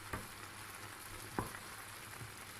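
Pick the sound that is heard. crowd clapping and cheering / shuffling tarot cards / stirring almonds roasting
stirring almonds roasting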